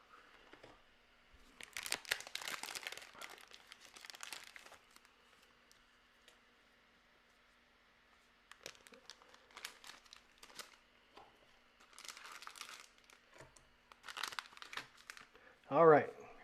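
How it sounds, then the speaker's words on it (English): Large plastic trading card sleeves crinkled and handled up close, several bursts of crackling with quiet gaps between them. "So let me get out the big card sleeves."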